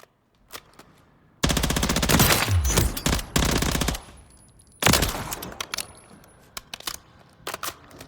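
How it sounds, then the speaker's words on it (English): A CTAR-21 chambered in 9x19 firing in Call of Duty: Modern Warfare III: two loud, sustained full-auto bursts, followed by a few scattered single shots tapering off, with no talking. "Here's our CTAR-21, chambered in 9x19."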